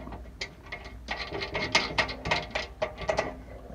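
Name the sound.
ratchet tightening bolt on Subaru skid plate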